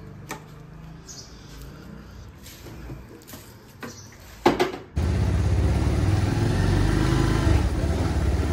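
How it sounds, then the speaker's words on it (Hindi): A motorcycle engine catches after a few clicks and sputters, then settles into a loud, steady idle that runs to the end, close by. "बाइक को करते हैं स्टार्ट।"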